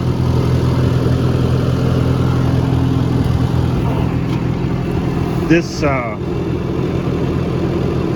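A Farmall C tractor engine idles with a steady, close, even mechanical rumble throughout, while someone speaks briefly partway through.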